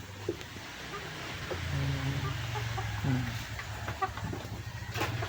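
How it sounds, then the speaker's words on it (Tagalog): Dominant CZ chickens cluck softly and intermittently in the background over a low, steady ambient hum, with a few short calls rising above it. "So ngayon nasa likod ko yung aking mga manok."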